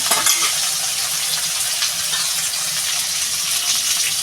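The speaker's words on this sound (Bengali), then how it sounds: "উস্তেটা লাল লাল করে ভেজে নেব" Bitter gourd frying in a pan for a potato, bitter gourd and rohu fish curry, a steady loud sizzle and crackle of hot oil filling the whole stretch with no talk.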